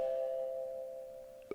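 A Ring camera doorbell chime rings out as a clear sustained electronic tone that slowly fades, followed by a brief higher blip near the end, alone without talk.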